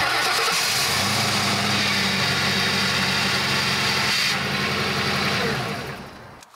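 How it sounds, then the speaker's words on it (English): A 2004 Mercury Grand Marquis engine turns over and catches, then runs at a steady, loud, close idle for several seconds before fading out near the end. "Then start the car and turn the wheel"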